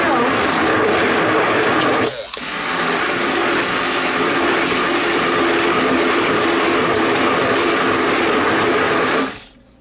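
An electric hand mixer whirs steadily through pumpkin pie filling in a home kitchen, a loud continuous buzz with a brief dip near two seconds before it cuts off at the end.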